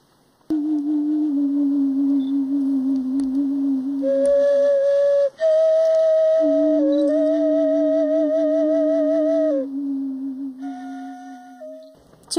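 Traditional New Zealand Māori flute blown in long sustained whistling tones, shifting pitch in several phrases with brief breaks, loud and close with no talking.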